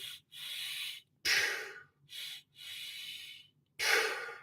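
Several sharp sniffing breaths through the nose come in a steady rhythm, close and fairly loud, with brief pauses between.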